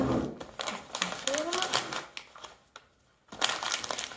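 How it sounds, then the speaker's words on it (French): Wrapping paper being pressed and creased along its fold while gift-wrapping a cylindrical present, giving a run of close crinkling, crackling rustles with a brief quiet gap before the handling resumes. "On appuie, on marque bien le pli."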